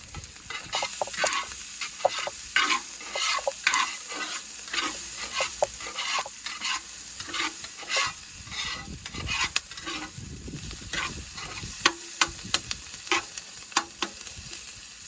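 Marinated mushrooms fry in a pan and are stirred steadily, giving a continuous close sizzle broken by frequent scraping strokes of the utensil, with no talking.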